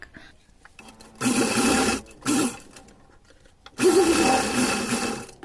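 Sewing machine stitching fabric for a woolen tassel dress for a small Laddu Gopal idol, running in three bursts of steady whirring, two short and one longer, with quiet pauses between.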